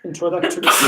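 A short, sharp sneeze close by, mixed in with speech.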